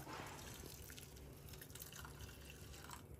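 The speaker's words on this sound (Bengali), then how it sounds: "এবার দেব পরিমাণ মতো জল।" Water poured into a pan of oats for a homemade face pack, a steady close splashing and trickling pour running continuously without any talk.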